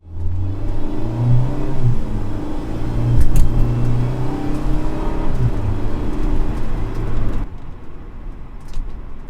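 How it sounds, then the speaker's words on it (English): A turbocharged Fiat 124 Spider Abarth drones and revs with a deep exhaust note and slight turbo whoosh, rising and falling, then cuts to a quieter tone near the end. "You get a little bit of whoosh from the turbos too"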